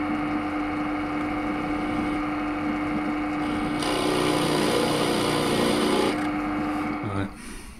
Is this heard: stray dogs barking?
no